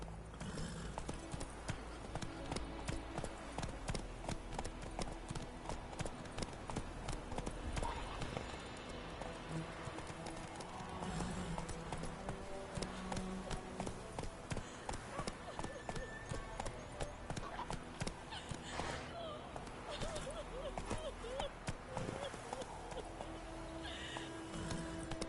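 Horse galloping in The Witcher 3 video game, a continuous rhythmic clip-clop of hooves with occasional whinnies over game ambience, with a voice speaking faintly underneath.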